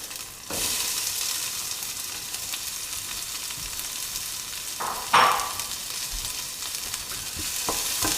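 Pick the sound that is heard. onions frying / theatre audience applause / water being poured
onions frying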